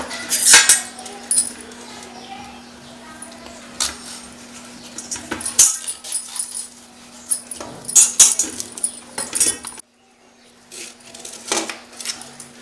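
A knife slices yellow cucumber into thin pieces for pickle, giving irregular sharp taps and clicks on a board against a steady low hum, with short pauses between strokes.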